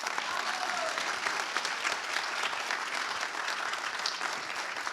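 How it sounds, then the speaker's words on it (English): A large audience applauds a speaker at a women's awards gala in Paris, a dense, steady wash of clapping that holds at an even level throughout with no pauses. "A resounding round of applause for you, Chidi."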